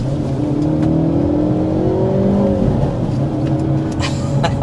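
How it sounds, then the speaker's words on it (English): A 2025 Hyundai Elantra N accelerates hard from inside the cabin, its engine note climbing steadily in pitch through a sustained, loud run with one gear change partway through and no talking. "that acceleration is a great example of how quick this feels behind the wheel"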